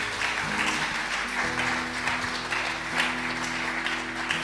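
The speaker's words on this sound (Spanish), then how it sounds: "Y dele un aplauso a Jesús, porque Jesús es hermoso." Applause from a church congregation, steady and fairly close, filling the room with dense clapping over sustained musical tones from a keyboard or organ.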